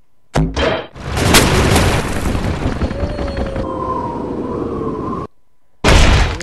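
A tank cannon fires in a video game battle, a loud close boom that rolls into a sustained roar of rumble and debris for several seconds before cutting off, then another heavy blast bursts in at the end.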